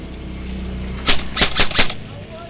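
A firearm fires on full auto in two or three short bursts of sharp, loud reports, near and close together, over a faint room background.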